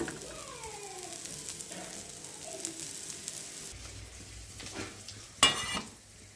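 Onions fry in a pan as part of a vegetarian home cooking session, giving a steady sizzle. Clinks of a utensil against the cookware come through, and a sharp clatter lands near the end.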